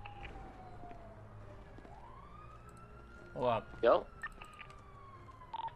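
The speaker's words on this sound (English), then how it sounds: "I hear sirens." A police siren in the video game GTA wails and rises faintly in the background while a voice speaks briefly over it, with light clicking nearby.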